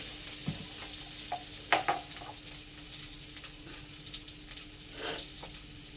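Cumin seeds sizzling in hot oil in a pan, a steady close frying crackle with scattered sharp pops and spits, no voices.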